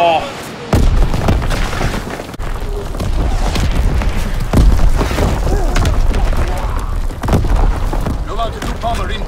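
Bombing-run explosions in Call of Duty WWII, heavy booms and thuds landing in a rapid irregular series over a rumbling battle bed, with players talking over the blasts.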